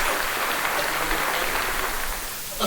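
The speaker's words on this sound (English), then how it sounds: "The little golf clap." A small, polite golf clap: a brief, soft, even patter of light clapping that continues for a few seconds with no voices over it.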